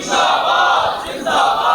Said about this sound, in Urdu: آخر میں محبت سے نعرے کا جواب دیں